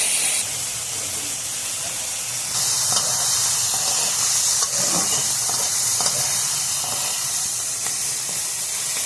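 Steady, loud sizzling hiss of shrimp frying in a hot pan, continuous throughout with a brief brighter surge partway through; no voices.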